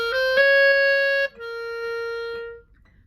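Solo clarinet playing a run of sixteenth notes from a regional audition etude, clear and close, with steady articulated notes and no talking.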